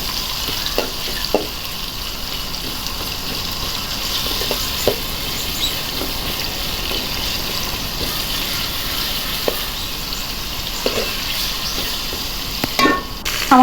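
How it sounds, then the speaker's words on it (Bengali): Two large chopped onions fry with garam masala in hot oil, a steady sizzle under repeated scraping stirs of a spoon in the pan, close and moderately loud with no talking. "তেলটা গরম হওয়ার পরে আমি গরম মশলা দিয়ে দিলাম, সাথে 2টা বড় বড় পেঁয়াজ কুচিগুলো ভেজে নিব।"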